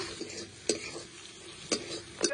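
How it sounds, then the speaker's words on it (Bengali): Fried potatoes being stirred into spice masala in a pan, a faint quiet sizzle punctuated by a few sharp spatula taps. "আলুগুলো দিয়ে মশলার সঙ্গে খুব ভালো করে একটু কষিয়ে নেব"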